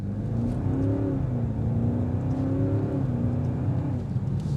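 A 2026 BMW M5 plug-in hybrid sedan accelerates hard, its engine note sweeping upward and dipping in smooth, continuous waves with no gear breaks, heard loud from the cabin without any talking.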